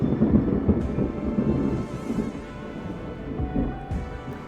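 Thunder rolls and rumbles from a Red Strings Club game scene, a sustained low storm roar with rain-like texture and a couple of sharper cracks, loud and continuous throughout.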